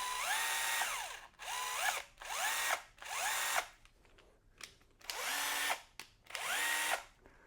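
A small Skil cordless drill whirs in repeated short bursts, motor pitch rising and falling as the trigger is squeezed and released, close and loud with brief pauses.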